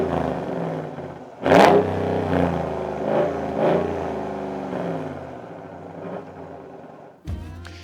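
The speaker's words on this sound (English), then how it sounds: "So every single HEMI V8 is going to sound like this." A 2026 RAM 1500 pickup with the 5.7 liter HEMI V8 and sport-tuned exhaust revs loudly and close, one sharp blip followed by several rising and falling throttle swells, then a final short burst at the end.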